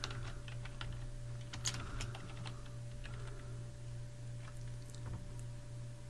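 Soft, steady typing on a computer keyboard, scattered quiet key taps over a constant low electrical hum.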